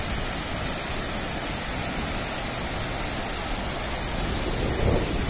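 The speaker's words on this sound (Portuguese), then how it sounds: "mostrando pra vocês aí esse barulhinho do mar gostoso aqui da Praia Grande, litoral de São Paulo" Sea waves at Praia Grande beach, Canto do Forte, on the São Paulo coast make a constant broad roar of surf, a dense, even wash with a slight swell near the end and no voices.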